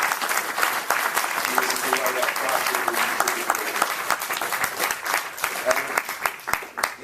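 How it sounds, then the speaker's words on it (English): An audience applauds at a boxing post-fight press conference. The clapping is sustained and fairly dense, with crisp individual claps audible close by, and a voice is heard briefly within it. "I think they deserve a great round of applause."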